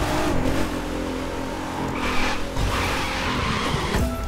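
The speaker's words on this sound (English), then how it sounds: "I'm just drifting around" Car drifting in The Crew 2 racing game, tires skidding and squealing continuously over a steady engine roar, loud and close with no voices.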